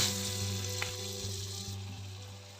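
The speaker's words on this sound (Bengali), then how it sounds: "ডাল আর মোচার পেস্টটা বড়ার মতো করে আমি এখন কড়ার উপর দিয়ে দেব" Lentil and banana flower paste fritters frying in oil in a wok, a soft, even crackling sizzle heard close and alone, with a couple of small clicks and a sharper tap at the end.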